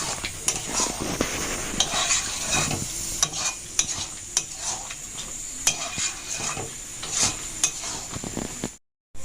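Carrot halwa is stirred in a pot, a spoon scraping and clacking against the metal in repeated sharp strokes over a soft background sizzle, close up with no talking, ending in a short silence.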